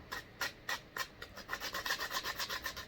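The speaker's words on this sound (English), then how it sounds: "Hit it with some sandpaper." Sandpaper rubbing a plastic back shell of a Digimon 20th Anniversary Digivice, with slow separate strokes that speed up into a quick steady scratching rhythm, close and quiet, with no talking.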